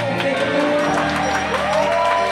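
Audience applause at a concert, a dense, steady wash of clapping and crowd noise that stays loud and unbroken, with a sustained tone running underneath.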